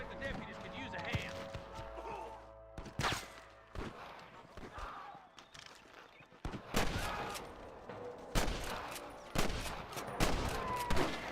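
Gunfire in the Red Dead Redemption game, with scattered shots and short volleys through a Western firefight among deputies, mixed with footsteps and game noise while a voice talks over much of it.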